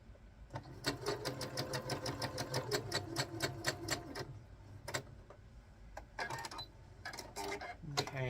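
A sewing machine runs through quilt block fabric in close, rapid rhythmic stitching bursts, pausing and restarting several times, with a voice talking quietly over it.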